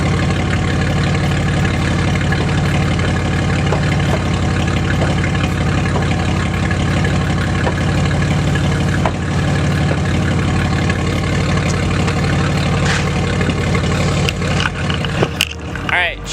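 A Nissan Z31 fitted with a straight-pipe exhaust idles steadily at close range, giving a loud, continuous low rumble that stays even for the whole stretch, with a brief bit of handling noise near the end.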